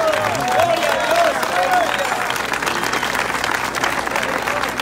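A crowd at an outdoor street evangelism gathering in front of the Government Palace in Quito claps steadily in a dense, continuous round of applause, with a voice carrying over the clapping.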